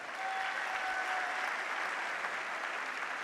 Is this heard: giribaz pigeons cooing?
no